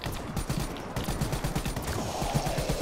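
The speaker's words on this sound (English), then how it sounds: "God, this gun shoots so slow!" Rapid gunfire from a weapon in Black Ops 3 Zombies, a fast run of repeated sharp shots at a fairly even rhythm over game background noise, no voices.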